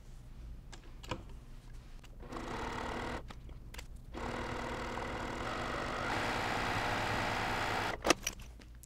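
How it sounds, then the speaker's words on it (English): A sewing machine stitches along the other side of a zipper for a cross stitch pillow, a steady mechanical whir in runs of a few seconds broken by short pauses and light clicks. "And I'm gonna stitch off the zipper,"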